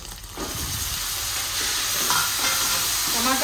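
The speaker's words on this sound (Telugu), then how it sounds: "ఇప్పుడు టమాటాలు కూడా వేగాయి కదండి" Tomatoes fry with pieces of dried fish in a pan, producing a steady, dense sizzle with occasional stirring scrapes, loud and close throughout.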